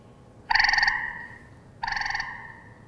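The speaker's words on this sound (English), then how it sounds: "That was the gray tree frog." Two loud, close calls from a gray tree frog, each a rapid trilling burst just under half a second long, separated by a pause of about a second, with quiet background between.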